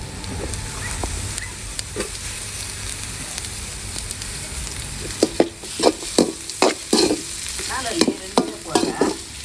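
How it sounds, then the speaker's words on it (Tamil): Sambar onions frying for a country chicken curry, a continuous close sizzle with scraping stirs that grow louder and more rhythmic in the second half. "நான் சாம்பார் வெங்காயம் போடுறேன்"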